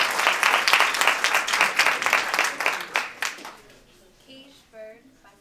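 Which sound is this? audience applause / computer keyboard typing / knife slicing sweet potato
audience applause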